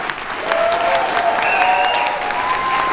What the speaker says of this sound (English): Let's hear it one more time for Chris and Zoe.